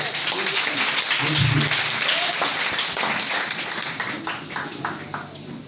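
A congregation applauds during a French-language church service, a dense sustained wash of clapping that stays loud and close and fades slightly toward the end, with a few voices mixed in.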